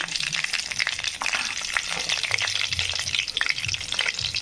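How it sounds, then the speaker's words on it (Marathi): Cumin and mustard seeds fry in hot oil for cabbage sabzi, a steady close crackling sizzle with dense sputtering pops throughout and a faint low clatter underneath. "आपण टाकून घेऊ जिरे, नंतर टाकून घेऊ मोहरी"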